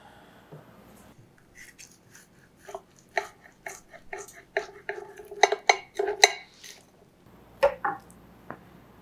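Knife and fork scraping and clinking on a plate while cutting into a pan-seared steak, irregular close taps and scrapes building to a busier stretch, then a few final clinks.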